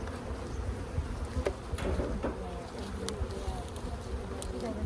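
Honeybees buzz in a dense, steady hum at an open hive during splitting and inspection, faint but continuous, with a few louder individual bees passing close and soft voices now and then.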